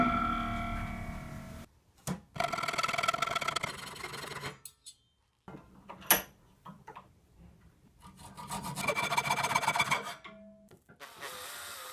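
A file rasps against the ends of stiff metal rods to round them over, coming in close scraping bursts with short silent pauses between strokes.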